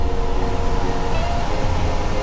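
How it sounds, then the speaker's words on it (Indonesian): Air conditioning runs aboard a Volvo B11R intercity coach, a steady low droning hum mixed with engine rumble from below, unbroken and fairly loud with no speech. "Ini suara AC-nya teman-teman"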